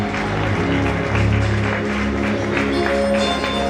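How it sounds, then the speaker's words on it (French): Applause for an award winner at a 2019 label awards ceremony: a crowd claps steadily and fairly loudly, with a tonal music bed running underneath throughout. "Sous vos applaudissements."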